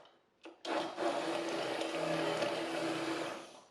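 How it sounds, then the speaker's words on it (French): Immersion blender pureeing cooked mushrooms for a mushroom velouté: after a brief knock, the motor starts and whirs steadily at close range for about three seconds before winding down, with no talking. "Maintenant on va mixer nos champignons avec un mixeur plongeant."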